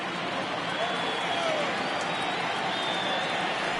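A dense, steady roar from a baseball crowd at a Pirates at Cubs game, rising and cheering on a 3-2 count, continuous and loud throughout.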